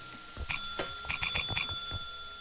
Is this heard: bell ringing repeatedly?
yes